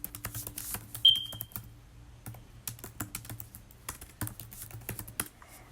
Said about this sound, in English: Typing noises.